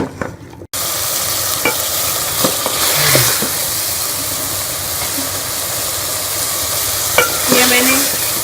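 Bottle gourd (lauki) fries in a spiced masala in a pan, with a loud, steady hiss and sizzle broken by repeated scraping strokes of a spoon stirring, after a brief quiet start.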